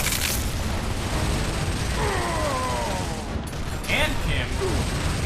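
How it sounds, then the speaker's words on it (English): A frag grenade detonates in the Gears of War shooter, a broad booming blast under constant gunfire and battle noise, with voices of the squad speaking around it. "Incoming frag!"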